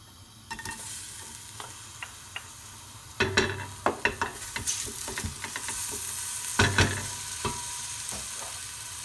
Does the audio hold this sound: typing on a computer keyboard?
no